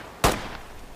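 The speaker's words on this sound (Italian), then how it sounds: "Mi sembra proprio gli spari." A single sharp gunshot in the tactical shooter Ready or Not, one loud crack with a short echoing tail, standing out against a quiet background hiss.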